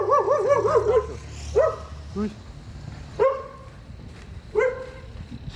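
Dogs bark at someone outside a quiet, bushy rural home, a few separate yelping barks spaced over several seconds, fairly close, with a person's brief exclamation in between.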